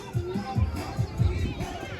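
Crowd chatter from a bunch of kids and families at a dance party at Dorney Park amusement park, a steady mid-distance babble with scattered voices rising and falling.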